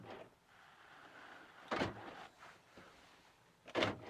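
Door locks on a 2001 Volkswagen Beetle TDI cycle lock and unlock, giving two short mechanical clunks a couple of seconds apart with faint actuator whirring between them, close and quiet.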